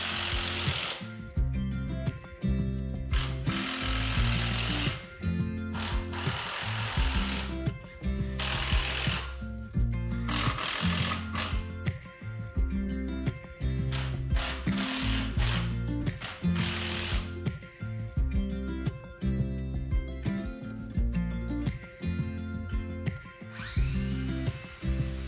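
A power drill drives temporary screws into 2x4s while a simple woodshop shelf unit is assembled, repeated bursts of motor whine and grinding with short pauses between screws, close and loud.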